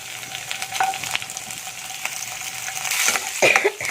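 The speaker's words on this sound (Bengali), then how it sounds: "সর্বপ্রথমে আমি শুকটি মাছটা এর মধ্যে ভেজে নিচ্ছি।" Dried fish frying in a pan of hot oil, a steady close sizzle with occasional stirring clatter and utensil scrapes toward the end.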